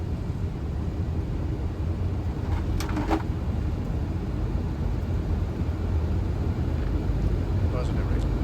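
Boeing 737 taking off from runway 24 at Rotterdam, heard from inside as a steady, loud broadband engine roar and rumble. It holds constant throughout, with brief faint higher tones near the middle.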